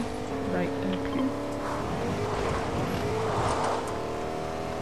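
A pickup-style truck driven in Fortnite toward a farm, its steady engine drone running throughout beneath a voice talking over it.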